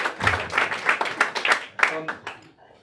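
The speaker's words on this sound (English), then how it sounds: "Give it up for Susan." A small group claps in quick, uneven bursts with a whoop or two, the clapping thinning out and fading at the end.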